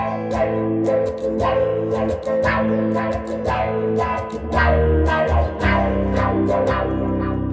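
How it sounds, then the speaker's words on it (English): Electric guitar through a Boss Katana Mk2 amp, strumming with a shimmering, wavering chorus tone and some grit, continuous and fairly loud with sharp pick attacks. "Pretty sure this is our chorus here."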